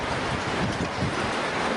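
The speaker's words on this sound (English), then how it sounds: "The 36-foot waves were relentless" Massive tsunami waves, reported at 36 feet, crashing on the Japanese coast during the earthquake disaster, a loud, dense rushing roar of surging water and wind noise, continuous with no voices.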